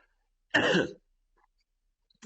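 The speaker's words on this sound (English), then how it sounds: "coughing" One short, harsh cough, close and alone in an otherwise quiet space.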